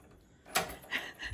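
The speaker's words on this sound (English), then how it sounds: "Once we figured out how to lock the door." An old-style key turns in a door lock at a forest-edge lodge near Sigiriya in Sri Lanka, giving a few quiet metallic clicks and rattles, close by against a faint background.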